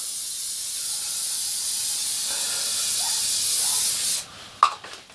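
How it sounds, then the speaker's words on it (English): A can of hairspray hisses in one long, steady burst for about four seconds over model railway backdrop scenery, then stops, followed by a few soft clicks and taps. "I'll just give that a quick"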